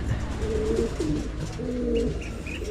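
Several pigeons coo softly in a loft in low, repeated warbling calls over a constant background hum, with faint chirps higher up.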